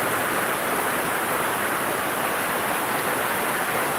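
Heavy rain pours in Sylhet, a dense, constant roaring hiss with no breaks, loud and close throughout and with no voices over it.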